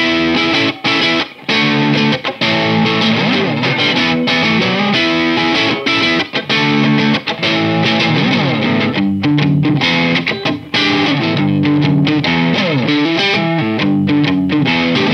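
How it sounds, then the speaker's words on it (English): An Antiquity AQJZ offset electric guitar played with heavy distortion through a Boss Katana Mark II amp miked with a Shure SM57, producing loud, continuous chords and riffs that run the whole stretch without pause. "all the tones you're hearing right now are coming through a Boss Katana Mark II, which is mic'd up in the corner right there with the Shure SM57"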